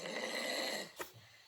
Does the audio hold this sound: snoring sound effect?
yes